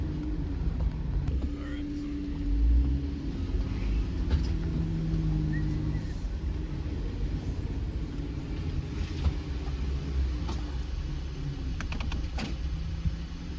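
A stock Jeep Gladiator drives off-road on a trail course, its engine a steady low rumble throughout with faint interior rattles and bumps, while a voice speaks over it at times.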